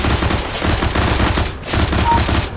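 Sustained automatic gunfire in Counter-Strike: Global Offensive, a dense, loud rattle of rapid shots lasting throughout with a brief dip midway before the firing resumes.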